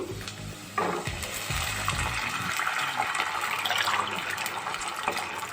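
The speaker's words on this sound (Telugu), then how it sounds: "ఇప్పుడు మనం ఎసరు పోసుకుందాం." Cooking water pours steadily into a pan of roasted semiya and rava for upma, a continuous close splashing and gurgling stream that holds for several seconds without talk.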